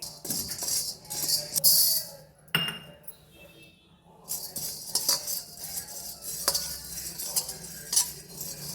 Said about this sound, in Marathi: दोन चमचे शाबू घेतले ते आता भाजून घ्यायची